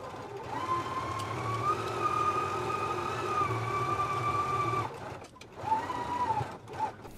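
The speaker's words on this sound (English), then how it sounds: "take it to the sewing machine, and we're going to stitch all the way around this outer edge" A sewing machine hums and whirs steadily while stitching around the outer edge of a McCall's 7575 garment piece, stopping briefly near the end and then running again in a short burst.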